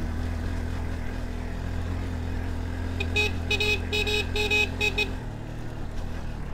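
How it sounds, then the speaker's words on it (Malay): A car horn on a slippery road gives a quick string of short honks, loud and close, over a steady engine and road rumble that keeps going before and after. "Dia kasih horn sikit, dia tahu kan ada orang kat depan kan."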